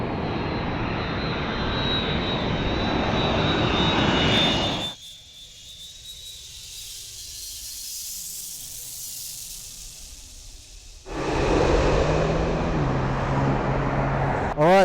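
A United passenger jet's engines arriving at Heathrow roar loudly with a piercing whine, dropping abruptly to a low rumble for several seconds before the roar resumes.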